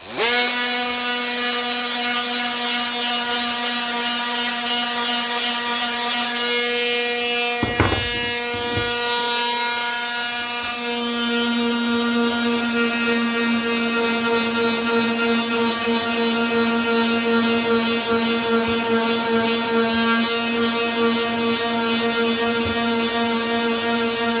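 Steady high-pitched whine of an Einhell Varrito cordless sander grinding a wooden chair leg, running continuously at close range with a brief dip in the middle before resuming.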